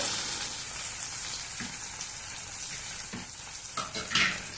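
Tomatoes and onions fry in a pan with a steady, soft sizzle and occasional stirring scrapes, close by with no talking.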